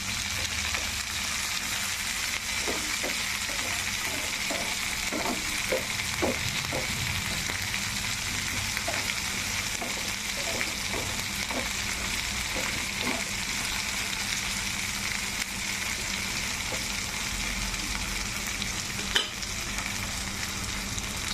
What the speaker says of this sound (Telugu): మనకి దొండకాయలు ఎంతవరకు వచ్చినాయో చూద్దామండి. లైట్గా వేగుతున్నాయి.